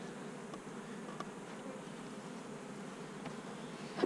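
Honeybees hum steadily around a beehive, a dense, even buzz of many insects close by, without a break for the full few seconds.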